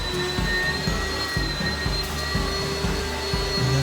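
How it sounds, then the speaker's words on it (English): Vacuum cleaner running steadily on carpet indoors, a loud continuous motor drone with rhythmic pulsing bumps as the head is pushed back and forth, alone without talk. "this is just to show you how we actually vacuum a room and work our way out."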